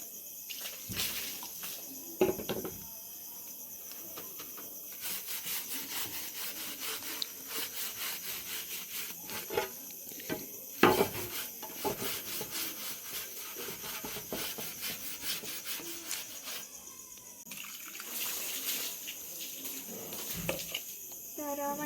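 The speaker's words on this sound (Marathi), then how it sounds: "चला तर मंडळी सगळ्यात आधी आपण ना नळ धुवून घेऊया" A pipe is scrubbed clean in a village setting, with repeated rough rubbing and scraping strokes, close and steady with brief pauses and a few sharper knocks.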